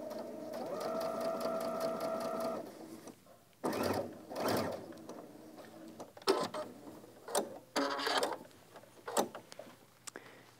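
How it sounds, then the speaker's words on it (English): A home sewing machine stitches in the ditch along a pant hem, a steady mechanical whir for a couple of seconds. It is followed by scattered clicks and handling noises, fairly quiet and close. "Put your needle in. And stitch right in that little ditch."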